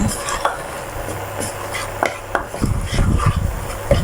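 Red curry paste being stir-fried with fresh milk in a pan for a santol and pork belly curry, close spatula scraping and stirring over a soft bubbling sizzle.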